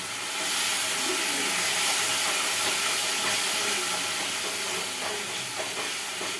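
Wash water from ground coconut poured into a hot cooking pan, bursting into a loud, steady sizzle and hiss that fills the whole clip.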